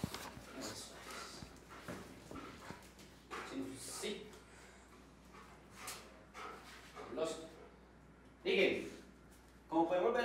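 A trained attack dog at a canine training session on a morning TV show whimpers and gives short yips and barks, mostly under and between people talking, with a few louder outbursts near the end.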